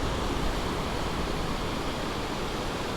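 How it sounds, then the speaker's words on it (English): Ocean surf breaks along a beach with sandbars, a continuous broad roaring wash that stays loud and even throughout, with no voices. "I see a wave starting to break."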